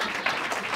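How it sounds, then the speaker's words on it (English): A short burst of audience applause at a talk on the bar's role in selecting Iowa judges, a steady wash of clapping on its own. "You can applaud me as often as you wish."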